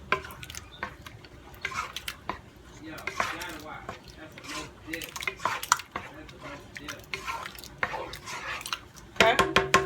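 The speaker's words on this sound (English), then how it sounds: "I'm going to give this a good mix. Stir it up real good." Cooked northern beans being stirred in a pot, with wet, sloshing scrapes and knocks of a spoon against the sides in an uneven rhythm, close and moderately loud, with a brief louder clatter at the end.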